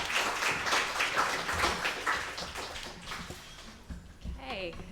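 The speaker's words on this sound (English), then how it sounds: "Can we give them a round of applause?" An audience at a report launch event applauds speakers on stage, with moderate crowd clapping in the first few seconds that fades out. Faint talking is heard near the end.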